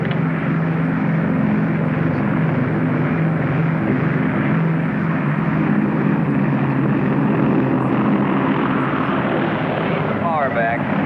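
Propeller aircraft engines drone loud and steady through a landing approach with flaps down, a continuous rumbling roar that holds throughout, with speech partly under it.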